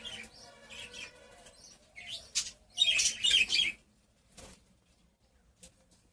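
Small birds chirping and tweeting inside an indoor bird house, a few bright scattered calls at first, then a louder busy burst of chirps and a wing flutter before it falls nearly quiet.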